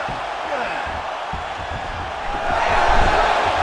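An arena crowd in the UFC 5 fighting game murmurs at a moderate level, then swells into louder cheering toward the end of the clip.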